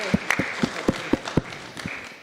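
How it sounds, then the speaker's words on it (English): Audience applause at a Sunday feast gathering: a small group claps in a loose, steady rhythm, moderately close and fairly quiet, with faint voices behind it. "Can we get a round of applause?"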